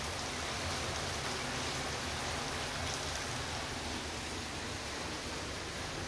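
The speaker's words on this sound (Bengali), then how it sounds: "এই 15-20 মিনিট ধরে মুষলধারে বৃষ্টি হচ্ছে।" Heavy rain pours down in a continuous dense wash of noise, steady and even throughout with no voices.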